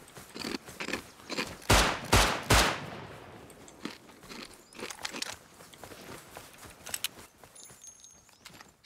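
Bursts of gunfire in the survival game Rust: a loud, tight cluster of shots early, then scattered sharper cracks and crunchy footsteps-like clicks at varying distance, with no talk over them.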